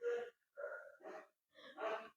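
Breathing during a bicycle crunch ab exercise, several distinct breaths in and out, close and fairly soft, each separated by short pauses.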